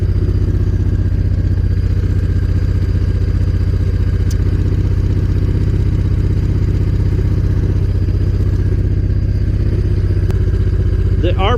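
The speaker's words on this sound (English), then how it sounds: "The RPM of the engine is quite high now. Hope you can hear it." A Honda VTX V-twin motorcycle engine runs steadily at high RPM, a loud, dense continuous throb and clatter close by with no break throughout.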